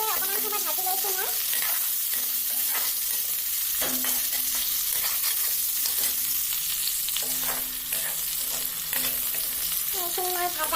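Chicken pieces fry with onions in a pan, a constant loud sizzle broken by repeated scraping strokes of a spoon stirring them, close and steady with no talk.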